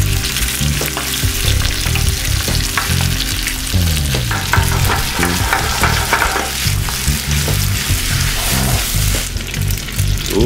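Zucchini, garlic and pasta fry loudly in a pan, with a steady dense sizzle and scraping, clattering stirring strokes throughout, close by and with no voices.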